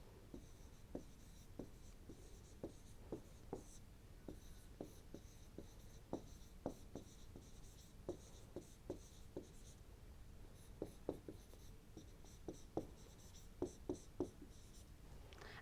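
Equations are written by hand in steady short strokes, each a soft scratchy tick, recurring irregularly over a quiet background hiss, during a microwave engineering lecture on waveguides, with no talking.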